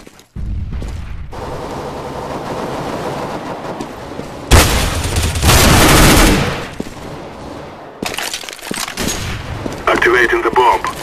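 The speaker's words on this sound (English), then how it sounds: "I'm throwing a grenade." Gunfire and a grenade blast in a solo-queue matchmaking shooter game: bursts of gunshots, then a loud booming explosion with a rumbling tail, followed by more rapid firing. It all sounds close and loud.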